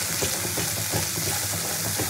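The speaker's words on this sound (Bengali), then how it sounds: "দিয়ে সব উপকরণটা খুব ভালো করে তেলের মধ্যে কষিয়ে নেবো" Spices with turmeric and chilli paste fry in oil with a dense, steady sizzle and a faint bubbling texture, heard up close without voices.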